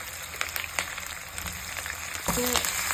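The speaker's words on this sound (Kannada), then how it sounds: "ನೋಡಿ, ಈರುಳ್ಳಿ ಫ್ರೈ ಆಗ್ತಾಯಿದೆ ಲೈಟಾಗಿ." Onions, mustard seeds, curry leaves and green chillies fry in a pan for masala uppittu, giving a steady close sizzle and crackle with a louder burst of spitting near the end.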